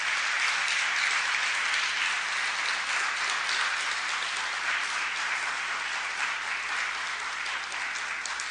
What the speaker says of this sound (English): we ought to give him an initial applause right now